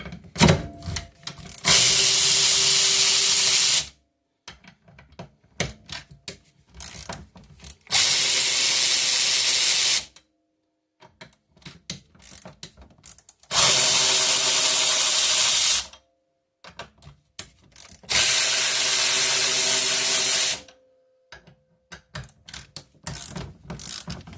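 Four long bursts of an 11 mm (7/16 in) power wrench working on a Polaris P85 clutch, each roughly two seconds of loud whirring, separated by quieter clinks and handling noises.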